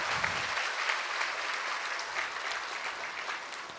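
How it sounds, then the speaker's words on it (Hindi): Thunderous applause from a spiritual gathering's audience, a sustained, even roar of many clapping hands without a break. "एक बार सब पुनः एक दूसरों के लिए तालियों की गड़गड़ाहट कर रहे हैं।"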